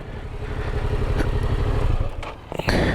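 A motorcycle engine runs steadily at close range, a low continuous rumble with a few throttle blips and clattering bursts near the end, while the bike has a throttle cable that is not pulling.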